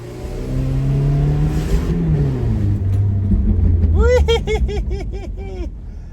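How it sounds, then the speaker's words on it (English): A 1981 Dodge Challenger does a burnout, its engine revving loudly and rising in pitch under load, and the rear tires break into a series of high chirping squeals near the end. "so will it do a burnout? Apparently it will."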